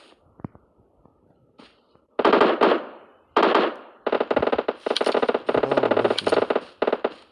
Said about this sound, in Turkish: Şu an bakın kimin nereden sıktığı belli değil